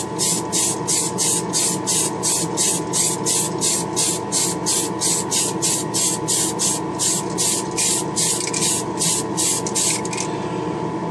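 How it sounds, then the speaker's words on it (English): Tamiya Fine Surface Primer hisses from an aerosol spray can onto Honda parts in rapid, evenly spaced short bursts, loud and close, with no talk. "The Tamiya primer I'm using, the Fine Surface Primer by Tamiya, this stuff dries up fairly quickly"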